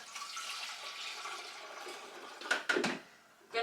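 Water runs into a kettle as it fills, a faint steady rush followed by a few louder splashes near the end.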